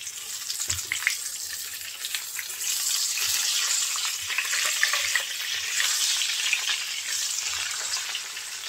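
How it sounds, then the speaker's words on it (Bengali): Slices of pointed gourd frying in oil, with a bright, steady hiss and crackle broken by low knocks of a spatula turning the pieces, close and continuous. "উল্টাপাল্টা করে দিয়ে পটলগুলো আমি লাল লাল করে ভেজে নিয়েছি।"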